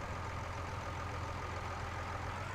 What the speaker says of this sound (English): definitely a nice tractor. Drives nice, sounds good.